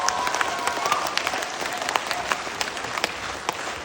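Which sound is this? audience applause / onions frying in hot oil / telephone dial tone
audience applause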